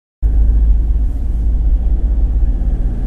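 A car's engine and road rumble start abruptly and hold a steady, loud, low drone at the outset of a road trip from Delhi toward Kedarnath, with no talking.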